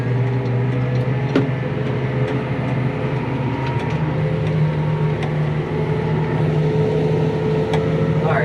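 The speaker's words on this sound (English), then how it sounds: "I'll give it some throttle, turn the PTO on, and then I'll open it up a little bit." A farm tractor engine runs at raised throttle with the PTO engaged, a loud continuous droning rumble with steady low harmonics and occasional faint clanks heard from inside the cab.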